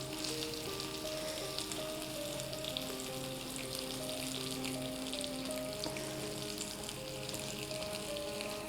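Paneer tikka cubes and capsicum sizzle steadily while grilling in a pan, giving a continuous close frying hiss with light crackle and no voices.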